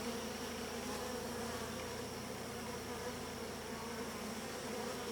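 Bees at a hybrid beehive buzz in a dense, continuous hum that holds steady and fairly close throughout, with no voices.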